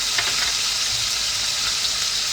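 Mutton mince kebabs fry in a little oil and their own juices, giving a steady, loud, close sizzle that runs unbroken throughout with no voices.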